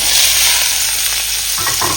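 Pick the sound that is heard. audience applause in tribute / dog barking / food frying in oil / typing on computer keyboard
food frying in oil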